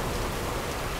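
Heavy rain in the video game Tomb Raider (2013), a dense, constant hiss of downpour filling the scene, loud and unbroken with no voices.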